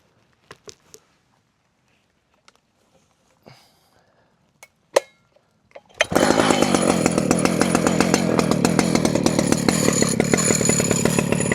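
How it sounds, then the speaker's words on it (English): Chainsaw milling a cedar log in a forest: after a few faint clicks and knocks, the saw roars in at full throttle, loud and close, holding a dense, continuous cutting whine to the end. "I noticed that you can't hear me talking when the saw's on full blast"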